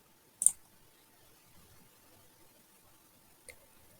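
A single sharp computer mouse click sounds close and clear in a quiet room, followed a few seconds later by a fainter second click.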